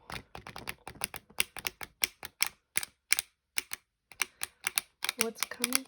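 Cards from a tarot deck riffle and snap in quick close bursts of crisp clicks, pausing briefly mid-shuffle before another rapid flurry.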